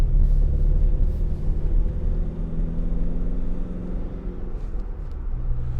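2019 Ford Transit Custom 2.0 TDCi van engine pulling around a corner, a steady low diesel rumble from inside the cab that rises gradually under acceleration and eases near the end.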